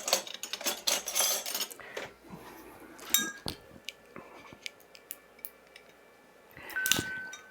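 A knife clicks, scrapes and clinks against the seal of an Old Grand Dad Bottled in Bond whiskey bottle in a string of sharp, close, irregular taps with quiet gaps and no talking.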